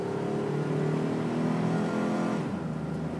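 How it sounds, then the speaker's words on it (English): A 2007 Dodge Ram V6 pickup accelerating hard on a road in Tucson, its engine note climbing steadily in pitch before dropping at a firm upshift, heard loud and close without talking. "I'm jamming on the gas there to get it to shift hard, and it took it just fine."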